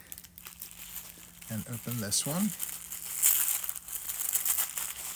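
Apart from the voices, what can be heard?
unwrapping yarn from tissue paper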